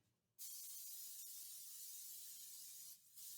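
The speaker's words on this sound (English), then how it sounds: "So we got our cooking spray." A steady, close cooking-spray aerosol hisses for about two and a half seconds, pauses briefly, then starts again.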